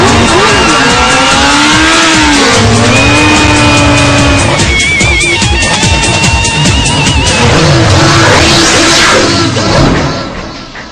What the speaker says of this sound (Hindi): सड़कों पर दौड़ती बाइक,